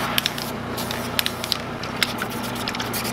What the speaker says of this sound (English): I'm gonna spray its last clear coat on it.